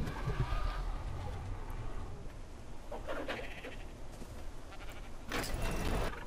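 Sheep bleat in an ARK Scorched Earth base, a few calls rising over a steady bed of game ambience with no talk.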